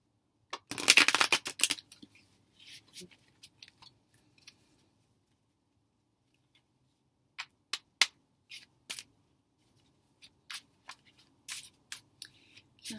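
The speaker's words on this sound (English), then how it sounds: "Shuffle these really quick." A deck of tarot cards is shuffled close by, starting with a dense riffle and then turning into scattered soft flicks and taps in a quiet room.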